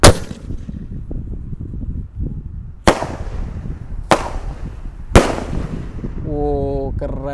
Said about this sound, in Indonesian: pelontar Roman Candle 3 Tor triple boom kita masukkan ke dalam